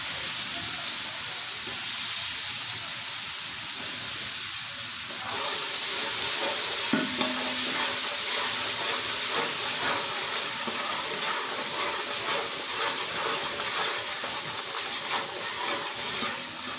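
Ginger garlic paste frying in a pot for chicken korma, a steady loud sizzle and hiss that intensifies partway through, with faint talk underneath.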